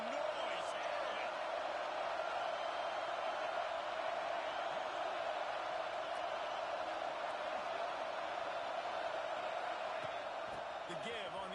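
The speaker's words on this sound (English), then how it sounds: "This crowd bringing the energy and noise early." Steady, dense roar of a football stadium crowd at a Big Ten game against Iowa, sustained and loud throughout with no breaks, faint whoops rising above the wash.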